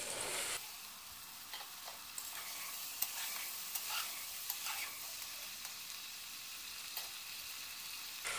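Green peas frying in a pan for veg pulao with cauliflower and potato: a steady close sizzle runs throughout, broken by light scrapes and clicks of stirring.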